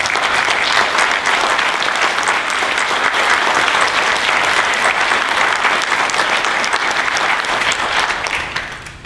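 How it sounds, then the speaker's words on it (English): An audience applauds volunteers at a community appreciation day, giving loud, sustained clapping that holds steady and then tapers off at the very end. "all of you deserve a very big round of applause"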